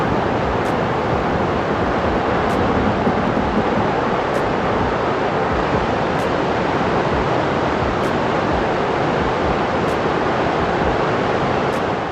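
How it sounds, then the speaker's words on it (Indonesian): Water from the blasted Condit Dam pours out in a torrent, making a loud, unbroken roaring rush that holds steady throughout, with faint regular ticks on top. "Secara luar biasa langsung menumpahkan miliaran kubik air beraliran deras"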